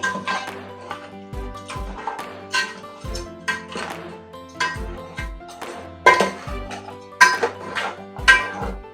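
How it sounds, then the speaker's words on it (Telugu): A metal spoon knocks and scrapes against a cooking pot as crabs are stirred into masala for a Telangana-style crab curry, giving a repeated rhythm of close, sharp clinks and taps. "ఇప్పుడు ఈ మసాలంతా పీతలకు పట్టేలా కలుపుకోవాలి"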